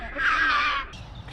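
A bird flying close past a share house in Australia gives one harsh, crow-like caw, loud and near, lasting under a second before fading into quiet background.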